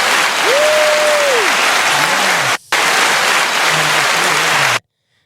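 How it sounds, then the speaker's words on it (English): Applause on a podcast-style show, heard as a loud, steady wash of clapping-like noise with a brief dropout, ending abruptly, and faint pitched tones sweeping above it. "Let's get another applause for my boy."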